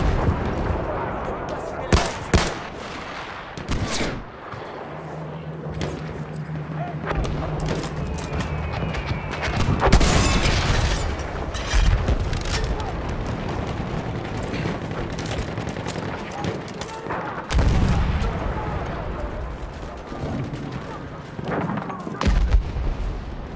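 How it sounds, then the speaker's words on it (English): Battlefield 1 combat on the Monte Grappa map during an enemy bomber attack: booming explosions and bursts of gunfire roll on continuously, with loud heavy blasts over a dense battle din and occasional voices. "Là c'è un bombardiere nemico!"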